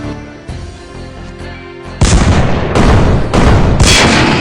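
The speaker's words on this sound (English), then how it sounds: "Brayan continued his vicious attack on the T5" Cartoon tank firing shells in an attack, heavy booming blasts in quick succession, loud and close, with a rumbling build-up before the shots.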